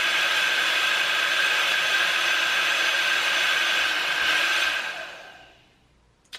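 A BOJON hair dryer runs at its max setting, a loud steady airy whoosh with a high whine, then winds down and fades out, ending with a brief click and a short spoken word.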